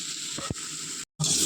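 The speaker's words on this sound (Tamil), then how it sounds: "அதே எண்ணெயில் நம்ம சுரக்காய் நறுக்கி வச்சுருக்க சுரக்காவை போட்டுக்கணும் போட்டு நல்லா வதக்கணும்" Steady, close sizzling of chopped bottle gourd sautéing in hot oil, with a brief stirring clunk, a sudden short silence, then louder sizzling again.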